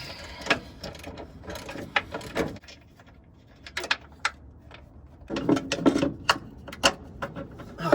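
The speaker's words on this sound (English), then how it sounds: "Cheater on my ratchet over here." A ratchet fitted with a cheater bar works a bolt loose on the front end of a K1500 Silverado, giving irregular bursts of close, sharp clicking and metallic clanks with quieter gaps between them.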